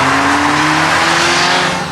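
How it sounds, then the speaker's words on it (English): A classic Ferrari sports car roars loudly and steadily throughout, its engine droning close by with a rough, dense exhaust note and no voices over it. "The popping of the exhausts booming away like distant thunder."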